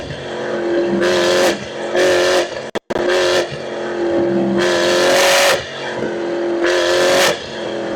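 A 2025 Porsche Cayenne Turbo GT in sport mode revs hard through repeated loud acceleration pulls, engine note climbing in pitch then dropping at each gear shift, with a brief cut in sound partway through.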